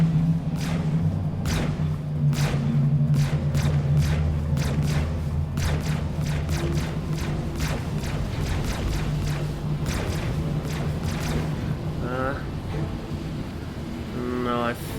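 Avenger ship guns firing in the Star Citizen video game, a long stream of rapid sharp shots over a steady low engine hum, with voices speaking briefly near the end.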